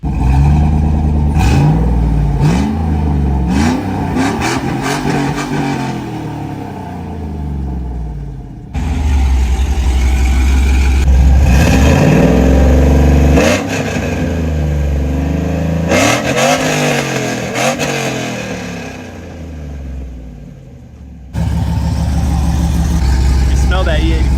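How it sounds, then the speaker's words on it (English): Cammed Chevrolet Silverado with a 5.3L V8 and Flashark long-tube headers, revved hard in several loud, close bursts that rise and fall, with brief idling lulls between the pulls. "let me go ahead and give you guys a rev of before and after the long tube headers"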